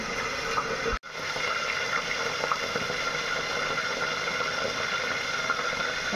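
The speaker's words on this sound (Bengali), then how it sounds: "পাবদা মাছ ভাজা চলছে।" Steady sizzling and crackling of pabda fish frying in hot oil, close and continuous, with a brief dropout near the start.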